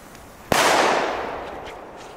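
A single loud firework bang from Belgian fireworks, a sharp blast followed by a long, slowly fading crackling hiss and rumble, heard alone outdoors at dusk.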